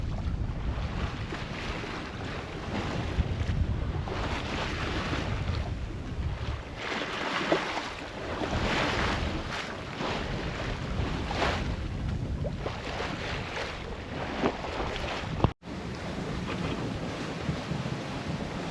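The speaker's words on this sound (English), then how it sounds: "It's turning out to be quite a blustery day with a wind shift which has gone round to the west" Gusty wind buffets the microphone on an ocean rowing boat crossing the Atlantic, a loud, rough, continuous roar with waves washing around the hull and a brief dropout near the end, with no voices.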